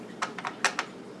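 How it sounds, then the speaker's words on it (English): Typing on a Macintosh Performa/LC 575 membrane keyboard: five soft, close key presses in an uneven rhythm over a quiet background. "So this is what they call a membrane keyboard."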